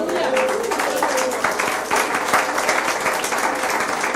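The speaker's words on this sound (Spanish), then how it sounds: "Un aplauso al Señor otra vez." A church congregation applauds, a dense, steady burst of clapping from many hands that fills the room for the whole stretch.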